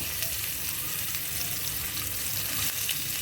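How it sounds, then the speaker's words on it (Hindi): Onions sizzling in hot oil in a frying pan while a raw guava dish cooks, a steady close crackling hiss with light stirring. "अब डाल देंगे इसमें प्याज साथ के साथ"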